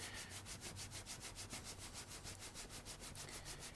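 Soft, steady rhythmic rubbing as a water-based finish is worked gently into a leather skull by hand, quiet and close with regular back-and-forth strokes and no talk.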